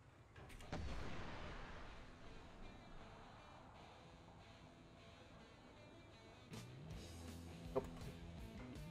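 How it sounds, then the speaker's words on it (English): A missile launched in a video game, a single deep thudding whoosh near the start that fades into a low airy rush, with a few fainter distant thumps later. "Let's fire a missile."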